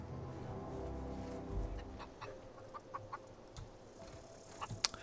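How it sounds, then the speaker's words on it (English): A rooster clucking in the video game The Outer Worlds, with soft, low clucks over a steady game ambience, followed by a few short sharper sounds. "I can talk to the chicken? The rooster?"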